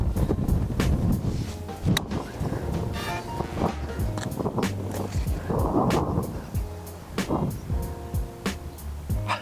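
Strong wind buffets the microphone on the Humewood links golf course in Gqeberha, loud rumbling gusts rising and falling throughout, with scattered knocks and thumps.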